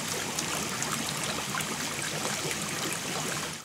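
Water pouring steadily through a standpipe in an aquaponics system, a dense continuous rushing and trickling, close and even, with no voices.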